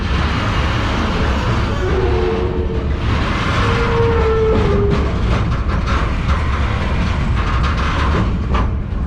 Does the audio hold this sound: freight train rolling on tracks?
yes